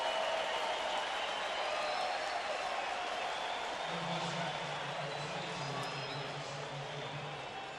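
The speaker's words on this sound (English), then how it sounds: "The derisive round of applause by the Angels faithful here as the first out is recorded in the 5th." A crowd of Angels fans at a baseball stadium gives a derisive round of applause, a dense, steady wash of clapping from a large crowd that continues throughout, with a faint voice or tone partway through.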